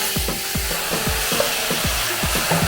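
Pork skin for chicharon fries in its own rendered fat over low heat in a wok, a steady close sizzle broken by repeated scraping strokes of a stirring utensil at a regular rhythm.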